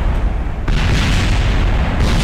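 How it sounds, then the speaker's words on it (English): A deep, loud booming blast from rocket parts exploding in Kerbal Space Program, the roar surging abruptly partway through and rumbling on as a sustained explosive wash. "Multiple explosion death."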